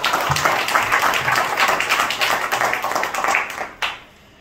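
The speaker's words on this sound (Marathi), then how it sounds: "एकदा तुमच्याकरता जोरदार टाळी वाजवा बरं." An audience at a Thursday maha-aarti kirtan gathering claps loudly for about four seconds in a dense, sustained burst, then the applause drops away abruptly into near silence.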